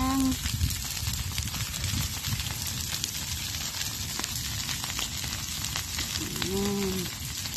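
Crackling field fire burning dry leaves and debris on a farm being cleared for corn planting, a steady dense crackle and hiss running throughout at close range, with brief faint tonal sounds near the start and end.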